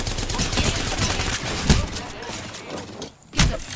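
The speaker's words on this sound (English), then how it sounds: "I am taking fire," Continuous game gunfire from enemies in a shooter, a dense rattle with sharp louder cracks at about 1.7 and 3.4 seconds and a short lull just before the second.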